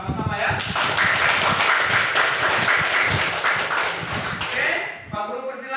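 A classroom group claps together in applause for students about to perform a role play, a dense, steady patter of many hands that fades slightly near the end as a voice begins speaking.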